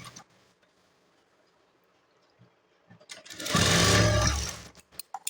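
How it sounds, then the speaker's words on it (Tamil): A sewing machine stitching a blouse runs in a single close, whirring burst of about a second, preceded by a few quiet handling clicks and near silence. "அதுக்கு தகுந்த மாதிரி லைட்டாக திரும்பவும் நான் இன்னொரு தையலை போட்டுறேன்."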